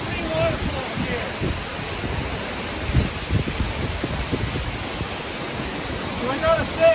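Water pouring down at the Sekumpul waterfalls in Bali, three falls together, a steady broadband roar with wind buffeting the microphone and brief voices over it.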